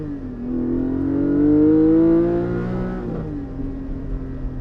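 A Porsche 718 GT4 with an engine tune, aftermarket exhaust and re-geared transmission revs up on a street, its engine note climbing steadily, easing off, then pulling again, close and loud with no talk.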